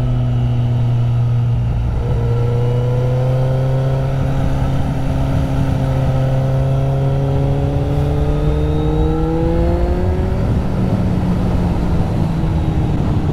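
A Kawasaki Z800E motorcycle accelerates hard at full throttle, its engine note climbing steadily in pitch through a long loud pull, then easing briefly before rising again, close and dominant.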